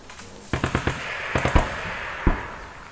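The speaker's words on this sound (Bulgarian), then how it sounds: "пак някой стреля, нещо прави." Gunfire in the survival video game 60 Seconds: a quick volley of sharp cracking shots followed by a second short burst and one last isolated shot, moderately loud over a steady background hum.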